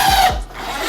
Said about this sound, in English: Get all the corners screwed together,